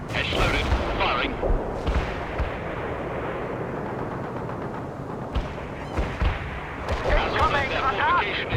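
Artillery fire in the World in Conflict game during a Soviet assault, repeated heavy booms and blasts under continuous battle noise, with radio-style voices speaking over it.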